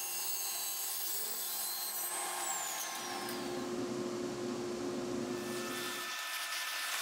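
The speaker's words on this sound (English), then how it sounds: "So 2 passes on the table saw brought them in to that 3-inch mark that I was looking for." A table saw whines steadily as it cuts timber posts to size, a loud continuous motor drone with a rougher band of blade-in-wood noise through the middle, and no pauses.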